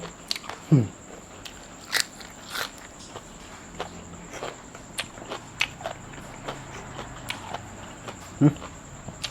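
Raw spring onion is bitten while eating pork larb, giving a string of crisp, close crunches and chewing sounds at irregular intervals, with a few quiet voice sounds in the background.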